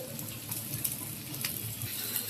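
Onions frying in oil on a flat tawa griddle, a soft steady sizzle with faint watery crackle, fairly quiet and continuous, with no talking.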